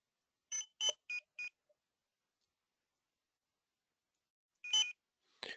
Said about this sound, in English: I can beep the beeper.